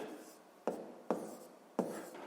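A pen writes numbers by hand on paper during a sixth-grade maths exercise, with three sharp strokes and quiet scratching between them.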